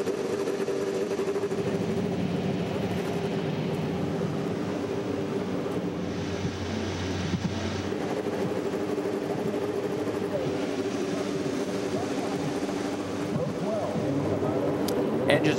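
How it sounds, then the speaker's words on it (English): Several IndyCar race car engines from the 2008 Firestone IndyCar 200 at Nashville fire up and settle into a steady, droning idle together, heard from a distance under a commentator's voice. "Engines have come to life"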